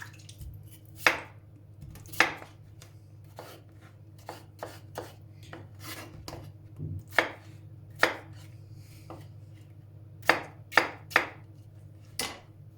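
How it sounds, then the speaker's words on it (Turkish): Knife chopping potatoes into cubes on a board, a series of sharp, close, irregular thuds roughly every half second to a second, heard alone without talk. "Böyle küp küp doğruyorum."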